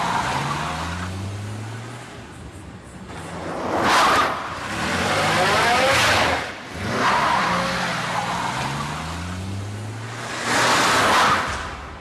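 A car revs and swings around to turn back, its engine surging in repeated loud swells with tyre noise between quieter idling stretches.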